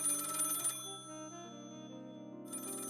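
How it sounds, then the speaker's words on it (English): A desk telephone rings in a radio drama, an electronic ringtone with a steady repeating warble that continues for about three seconds, clear and alone with no voices over it. "The phone on Nick's desk rings."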